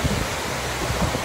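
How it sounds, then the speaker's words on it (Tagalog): Steady roaring wind buffets the microphone, a continuous low rumble with gusting swells and no voices. "Malakas kasi yung hangin."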